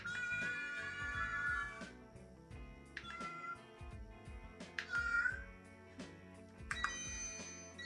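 Bright electronic tones from Gabby's Dollhouse interactive toy cat ears in meowing mode play in short bursts, several chirpy synthesized cries spaced a second or two apart, loud and close.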